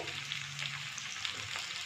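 Tomato frying with potatoes in a pan gives off a steady, close sizzle and crackle, with no talking.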